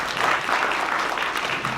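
Brief, steady audience applause at a film festival event honoring its sponsors, a full room clapping evenly throughout with no voices over it.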